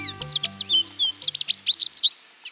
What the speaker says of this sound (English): This American goldfinch is unmistakable in his bright yellow breeding plumage.